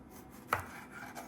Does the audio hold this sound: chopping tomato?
yes